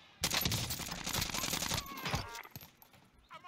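Rapid burst of video game gunfire, loud and dense for about two seconds, then fading into scattered shots and lighter rattling.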